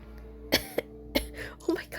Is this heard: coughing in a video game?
yes